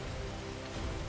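Steady rain hissing across a surface in Elden Ring Nightreign, a dense, even wash of drops held at a constant level through the short moment with no voices.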